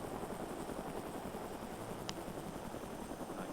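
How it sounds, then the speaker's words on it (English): A video-game helicopter flying and banking, with a steady droning engine and rotor hum that holds even and continuous throughout, plus a brief faint click partway through. "Now if you move your mouse to the right, the helicopter will bank to the right"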